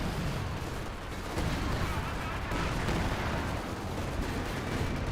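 Artillery fire in a Company of Heroes 2 battle, dense rumbling gunfire and blasts forming a loud, steady wall of combat noise under continuous commentary, with an artillery shot striking an anti-tank gun.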